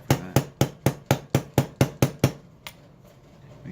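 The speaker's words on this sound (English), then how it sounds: "Now we can hammer it in." Hammer taps a pin into a Remington Target Master 510 rifle during assembly: ten sharp, evenly spaced close strikes in quick rhythm, then one lighter tap and quiet.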